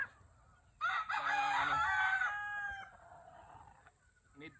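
A gamecock crows once, a loud, near, drawn-out call that rises and then trails off over about two seconds, with faint farmyard background before and after.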